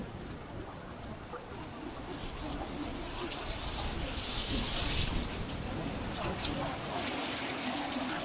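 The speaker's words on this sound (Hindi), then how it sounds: "ये देखो पानी कितना तेज चल रहा है।" A fast mountain river rushes in a steady, broadband roar near a remote Himalayan monastery, with wind gusting over the microphone. The roar swells slightly midway and stays constant and fairly close.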